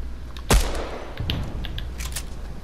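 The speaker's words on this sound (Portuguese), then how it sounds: "Ela tava até agora trocando tiro comigo." Gunfire exchange in the video game Fortnite, one sharp loud shot followed by scattered fainter distant shots and impacts at irregular intervals, with no voices.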